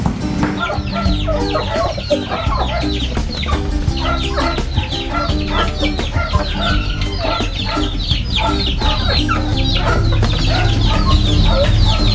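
A crowd of chickens clucks and cackles continuously and loudly up close, a dense, busy chatter of many birds at once.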